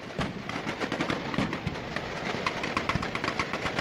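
Machine gun fire in a Fallout New Vegas shooting scene: a dense, continuous rattle of rapid shots over a rumbling engine-like background, moderately loud with no talk.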